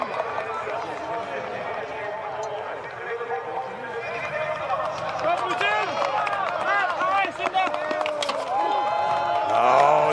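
Spectators cheer and shout along the course at a women's elite UCI cyclo-cross World Cup race in Zonhoven, Belgium, a steady crowd roar swelling louder toward the end beneath continuous commentary.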